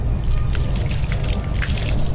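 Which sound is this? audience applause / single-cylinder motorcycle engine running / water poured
water poured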